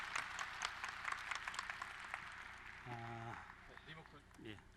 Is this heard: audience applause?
yes